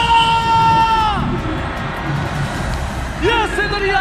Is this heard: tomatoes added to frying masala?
no